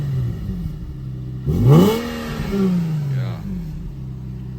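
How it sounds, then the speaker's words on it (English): Nissan G37 sedan with DC headers, Circuit Werkz resonated test pipes and stock exhaust gives a quick rev, the engine note climbing sharply then falling back to idle, close by, with one brief spoken word. "We're gonna give you guys a some revs right here."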